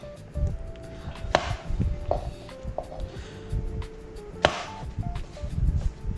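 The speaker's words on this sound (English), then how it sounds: "I'm gonna wash these white mushrooms. Alrighty. Just quarter these up real quick." A knife quarters white mushrooms on a cutting board, giving a string of crisp chops and thuds at an uneven, quick pace with board knocks, close and fairly loud, with no talking.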